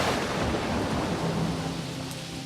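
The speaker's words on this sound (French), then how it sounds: "un orage peut même se déclencher." A thunderstorm over Réunion island rolls with dense, steady rain and a deep, rumbling roll of thunder, loud and broad throughout and easing slightly toward the end, with no voices.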